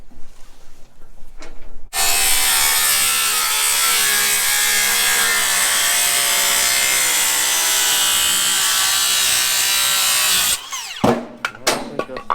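A power saw cuts straight across wooden rafter tails for a pool-house cabana in one loud, continuous whine of about nine seconds, with short handling knocks just before and after.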